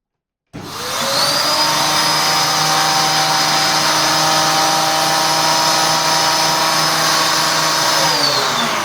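An old Volta F1 vacuum cleaner fitted with a turbocharger and a motor of just over 1000 watts starts up abruptly and spins at full speed, a loud, steady high-pitched whine and rush of air held close to the microphone with no talking.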